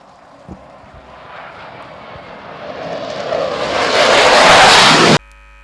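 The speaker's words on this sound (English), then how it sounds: "leader will continue straight ahead, rumbling the venue with its powerful jet noise" Navy jet aircraft roaring overhead at a Navy Day air show by the sea, a broadband rumble that swells steadily louder over several seconds to a loud peak before cutting off abruptly.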